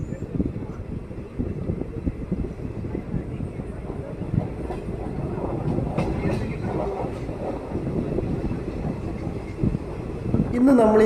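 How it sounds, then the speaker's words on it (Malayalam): The Chamundi Express passenger train rolls along the rails after leaving Mandya station, a steady close rumble with rattling wheel clatter that holds throughout and swells near the end. "ഇന്ന് നമ്മൾ ഈ സഞ്ചരിച്ചുകൊണ്ടിരിക്കുന്ന ഈ ട്രെയിനിൻ്റെ പേര് ചാമുണ്ഡി എക്സ്പ്രസ് എന്നാണല്ലോ"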